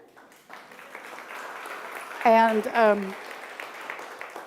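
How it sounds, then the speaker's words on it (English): A church congregation at a Sunday service claps to welcome new members, a steady patter of applause with a voice briefly speaking over it. "you can applaud for them"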